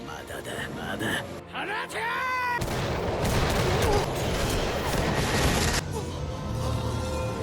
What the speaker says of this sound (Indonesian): Nobunaga lalu memerintahkan mereka untuk melepaskan tembakan